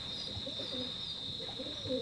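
Teddy pigeons coo quietly in two short low rolling phrases, close by, over a steady high-pitched background whine and no talk.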